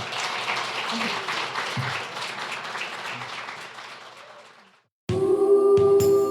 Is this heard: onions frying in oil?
no